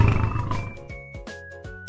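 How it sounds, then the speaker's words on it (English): A lion roaring in a jungle setting, a loud, rough opening roar followed by several shorter grunting calls repeating at a steady pace, close and alone with no talk. "It's a lion."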